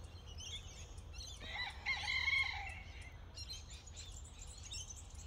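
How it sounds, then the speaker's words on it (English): Eugene the rooster crows once in the morning from a distance behind a summer garden, a faint, drawn-out call rising over light ambient bird chirps. "And the rooster you can hear in the background is Eugene, and he's saying good morning."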